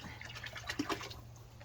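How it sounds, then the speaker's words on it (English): A liquid mixture splashes and trickles into a sheep's water bucket, a short, close pour with a few soft bubbling plops and no talking. "just throw it in her water bucket with the rest of her water"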